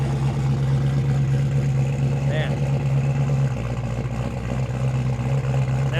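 A truck engine rumbles steadily close by at an outdoor car meet, a constant low drone that shifts pitch midway as it moves around, with someone speaking briefly over it.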